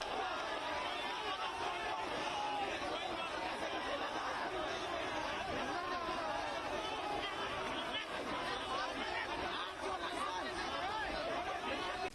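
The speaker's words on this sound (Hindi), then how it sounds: "देखते ही देखते एम्स में भारी भीड़ जमा हो गई।" A large crowd gathered at AIIMS hospital in Patna, with a dense, steady crowd murmur and overlapping chatter throughout, and a few faint laughs rising out of the noise.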